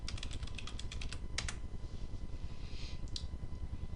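Close, quiet keystrokes on a computer keyboard come in a quick burst, then scattered clicks over a steady background hiss, with no voices.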